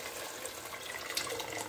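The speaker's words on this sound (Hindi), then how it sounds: "और इसमें पहले पानी डालेंगे" Water is poured into frying masala for a kofta curry, giving a steady hissing splash that runs throughout at moderate loudness.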